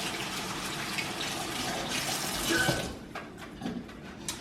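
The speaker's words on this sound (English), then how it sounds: "Wash my hands again." A kitchen tap runs in a loud steady gush while hands are washed beneath it, then cuts off, leaving a few faint drips and small clatters.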